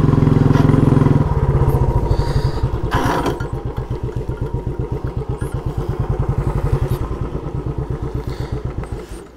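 A motorcycle rides through hilly forest country on a rainy day, its engine droning loud and close before settling into a rapid, even thumping beat as the rider shifts up a gear, with no one talking.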